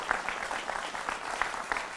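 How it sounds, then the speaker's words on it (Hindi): A studio audience on a Hindi television debate show claps to welcome the panel guests. The applause is fairly faint and distant, with a steady patter of individual claps. "तो जोरदार तालियों से सब मेहमानों का स्वागत करिए।"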